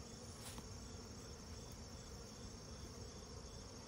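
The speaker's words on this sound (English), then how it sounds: "They're buzzing my veil because they're not happy." Honey bees buzz steadily and densely around a Layens hive being opened for inspection, a close, continuous swarm drone that stays loud throughout with no talking.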